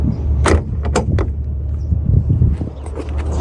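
A 2012 Ford Mustang 302 front hood being shut at an outdoor car show, with a few sharp clunks and a solid latch slam standing out over steady crowd and engine rumble.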